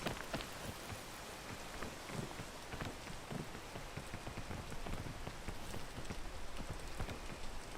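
Rain in a climbing video game, falling as a continuous, dense hiss of drops striking surfaces, steady and close with scattered sharper spatters and no voices.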